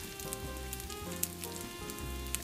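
Polish kotlety mielone, minced-meat cutlets, fry a few at a time in a pan, giving a steady close sizzle with faint crackles and a low rumbling hum beneath, no voices.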